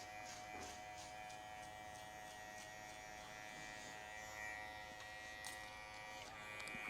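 Electric hair clippers buzzing steadily while cutting a mid fade haircut, a faint continuous drone close by with slight changes in pitch as the blades move through hair, and no talking.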